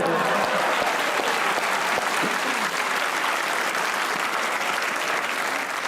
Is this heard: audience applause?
yes